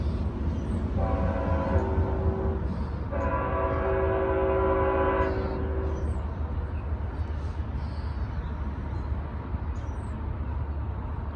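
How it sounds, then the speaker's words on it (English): A two-mile-long freight train with distributed power units rumbles steadily past in Dade City, Florida, while its horn sounds in two long blasts, loud and sustained over the constant rolling noise. "here comes the train"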